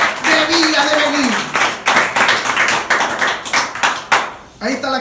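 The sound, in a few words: audience applause in church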